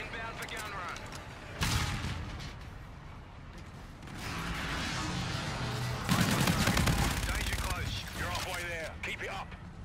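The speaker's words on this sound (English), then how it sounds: "Roger, inbound for gun run." Video game gunfire from an incoming gun run rattles in loud bursts and volleys, mixed with mechanical clanks and a voice speaking over the action.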